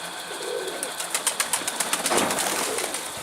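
A stray pigeon close by, with a quick run of rhythmic flaps or wing claps and some soft rustling, no talking.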